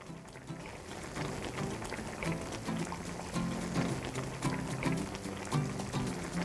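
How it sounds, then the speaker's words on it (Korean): Daegu-style spicy braised short ribs simmer over medium heat in a covered pot, giving a steady bubbling, sizzling wash with soft clicks that stays close and fairly even throughout. "갈비가 간이 배도록 끓여주세요."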